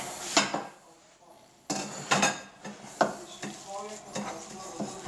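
Leek pieces and other ingredients stirred in a pot for Bulgarian sarmi, with clinking and scraping of a utensil against the pot in irregular bursts, near and moderately loud, with no talking.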